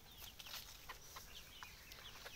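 Free-range desi chickens on a small farm cluck softly while pecking at scattered wheat, with short scattered calls over a steady outdoor background hiss and low rumble.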